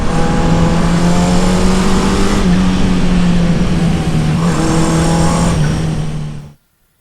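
A Honda CB500 motorcycle engine, freshly running after its varnished carburetors were cleaned, hums at a steady idle, loud and close, then cuts off abruptly near the end.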